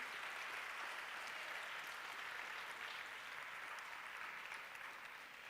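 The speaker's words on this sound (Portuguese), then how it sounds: "Aplauda o nome de Jesus" A church congregation applauds, a dense and continuous roar of clapping that holds steady throughout and eases off a little near the end.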